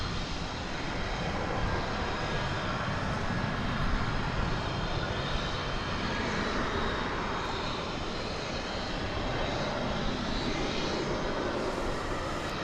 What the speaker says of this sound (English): We have an aircraft going to Tulsa, Oklahoma right there.